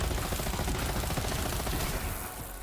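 Rapid automatic gunfire from the OPQ gun at double fire rate in Borderlands 3, a dense, continuous stream of shots that fades slightly near the end.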